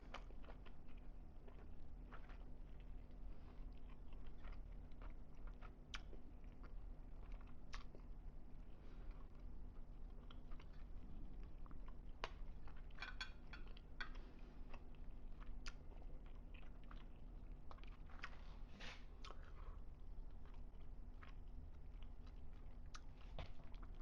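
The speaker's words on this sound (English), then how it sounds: "My favorite part of these videos is the eating." Someone eats a ground beef, bacon and egg frittata, with quiet, close chewing and small bites and crunches scattered over about twenty seconds against faint room noise, and no talking.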